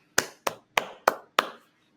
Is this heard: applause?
yes